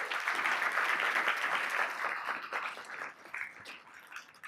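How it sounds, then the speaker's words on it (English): Audience applause at a regional keynote event, a dense burst of clapping from a large room that stays loud for a few seconds, then thins and fades unevenly with scattered late claps. "Please, a round of applause."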